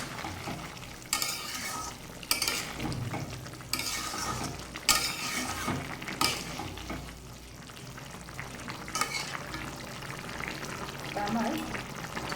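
A vegetarian vegetable dish fries in a pan while a spoon stirs it, giving a steady sizzle broken by loud scraping bursts every second or so, with faint background voices at times.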